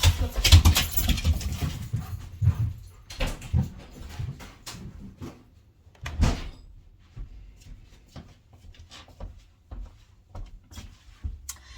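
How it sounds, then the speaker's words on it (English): A dog scratches at a door in irregular bursts of scratching and scrabbling, close by, with quiet pauses between clusters of claw scrapes. "He's scratching at the door. That's what the noise was."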